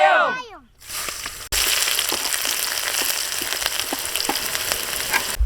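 Onions hit hot sesame oil in a kadai in a village kitchen, breaking into loud continuous sizzling with scattered crackles and pops. A brief voice comes just before.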